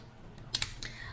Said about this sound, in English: and then you can type here